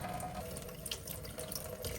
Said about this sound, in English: You want to make sure you're rinsing it in cold water.